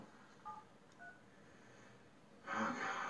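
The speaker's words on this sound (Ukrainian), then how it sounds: "Я набрав номер телефона" Telephone number dialed as a short series of DTMF keypad tones, a few brief beeps spaced out, then a louder burst of ringing or line noise near the end; moderately faint overall.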